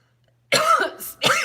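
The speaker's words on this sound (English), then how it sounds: "You guys all hear me cough." A woman lets out two short, sharp coughs close up, one right after the other, with a brief pause between them.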